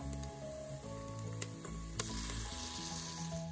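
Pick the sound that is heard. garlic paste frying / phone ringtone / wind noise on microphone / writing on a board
garlic paste frying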